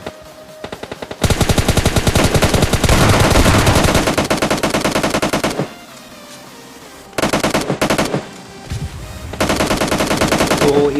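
Gunfire from the PUBG Lite video game comes in long, loud automatic bursts of rapid shots. Three main volleys are split by short quiet gaps, with a few single shots at the start and no talk.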